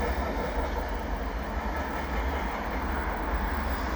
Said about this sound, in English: That's the end of the train right there.